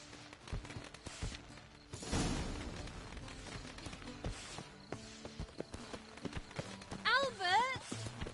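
Horse hooves clip-clopping in the Witcher 3 video game, a few scattered hoof taps under game sounds and effects, with a louder burst partway through.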